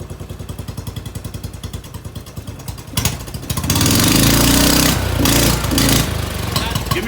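A small Canta LX car engine idles with a steady rapid chug, then revs up loudly and holds a rough, high roar with slight dips, close by.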